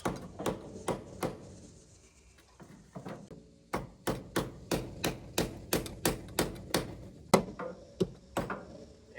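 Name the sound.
brass hammer tapping metal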